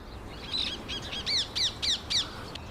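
Ring-necked parakeets in Richmond Park give a series of about six harsh, shrill squawking calls in quick succession, loud and clear over faint background hiss.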